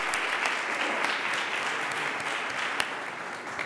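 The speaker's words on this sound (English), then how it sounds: "I'd like to give them a round of applause" Conference attendees give a round of applause for a panel of four speakers, a steady, evenly dense clapping from a sizable audience that holds at an even level with a few sharper individual claps standing out.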